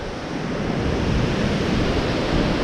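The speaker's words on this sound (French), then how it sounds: "je suis actuellement dans la magnifique cascade de la Chiflane" The Chiflane cascade, a waterfall, roars as a steady, dense wash of falling water that holds at an even, fairly loud level with no voices.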